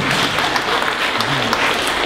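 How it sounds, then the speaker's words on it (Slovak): An audience at a PechaKucha Night presentation evening in Bratislava breaks into loud, continuous clapping that fills the room steadily from start to finish. "Si zaslúži potlesk."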